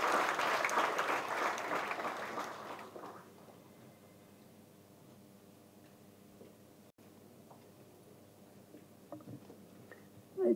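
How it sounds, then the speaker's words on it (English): Audience applause at a short film launch event, a loud dense burst of clapping for about three seconds that then fades to a quieter room with scattered small sounds. "A huge round of applause to Dr."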